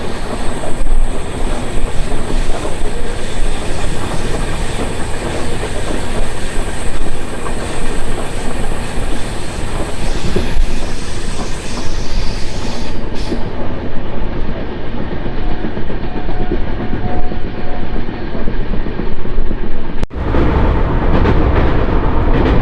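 Kacheguda–Murudeshwar train 12789 runs along the rails with a loud, continuous close-up roar of wheels and carriages, steady rumbling and clatter throughout, with a brief shift in the noise near the end.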